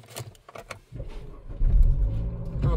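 Keys jingle briefly before a Renault Megane GT 2.0 engine cranks, catches and settles into a loud, close, steady low idle rumble.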